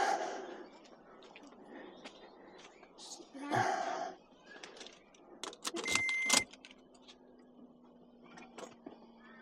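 A car with a weak, failing battery is being started at a campsite on Fraser Island, with a couple of short, strained bursts of cranking and a brief electronic chime between quiet moments and soft talking.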